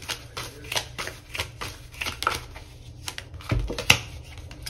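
Tarot cards being shuffled and drawn for a card reading, a run of soft papery riffles and flicks with a sharper snap near the end, close and fairly quiet with no talking.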